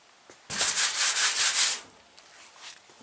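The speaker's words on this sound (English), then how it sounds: "I'm just going to sand all this down to bare metal" Car bodywork being sanded down to bare metal: a close, harsh rasping stroke runs for just over a second, then faint scuffs follow against a quiet background.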